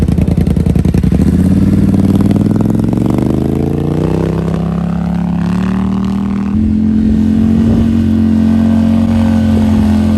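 A Polaris Scrambler 1000 ATV with a cheap aftermarket exhaust revs up steadily with a rough, rumbling exhaust note, climbs in pitch, then settles into a steady high idle, close by throughout.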